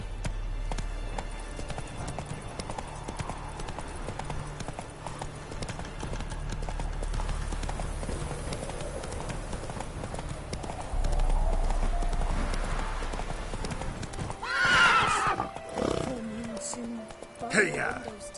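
Roach, a horse in the Witcher 3 video game, trots with steady clip-clop hoofbeats under game music and ambience, with a louder burst of sound and voices near the end.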